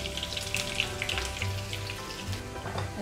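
Onion frying in hot oil for a kadhi tempering gives a steady, fairly quiet crackling sizzle with scattered pops throughout, no voices over it.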